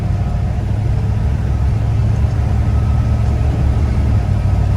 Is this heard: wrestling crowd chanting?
no